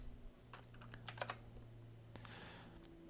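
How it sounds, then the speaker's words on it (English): Faint, quick keystrokes patter on a computer keyboard as numbers are typed into a running program, in a quiet room with a low steady hum beneath and no voices. "And then what if I type even more than 10 numbers?"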